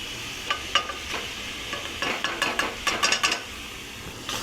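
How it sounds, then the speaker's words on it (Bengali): A spoon stirs boiled potatoes and carrots into sizzling pav bhaji vegetables in a pan, giving close clinks and scrapes in uneven bursts over a steady frying hiss. "ভালো করে নেড়ে চেড়ে আবার মিশিয়ে নেব এই গাজর আলুর সাথে পুরো সবজিটাকে।"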